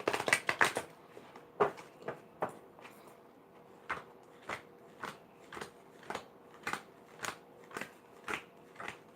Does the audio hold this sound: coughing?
no